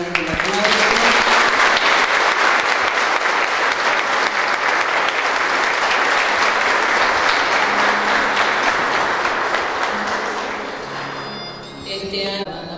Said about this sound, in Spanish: Muy bien, podemos brindar un aplauso.